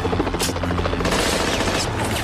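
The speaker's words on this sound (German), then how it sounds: "Helikopter!" A helicopter sound effect in a James Bond radio drama, a loud, close, steady rotor thump and roar with bursts of rapid gunfire mixed in.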